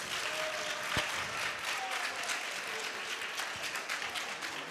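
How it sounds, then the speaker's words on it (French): Audience at an international African transport forum panel applauds, a dense, steady clapping that holds at a fairly loud level throughout with no speech over it. "Ça s'applaudit."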